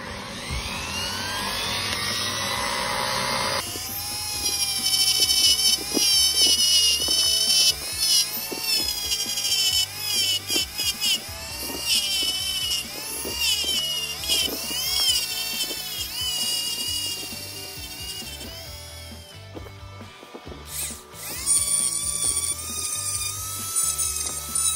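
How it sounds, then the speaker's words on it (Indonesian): A high-pitched mini grinder fitted with 180-grit sandpaper whines and shifts in pitch as it sands a metal motor scooter footstep, with a brief pause before it spins up again. "kita langsung amplas aja cuy, pakai 180, dan amplasnya itu udah saya tempel di mini grinder ya"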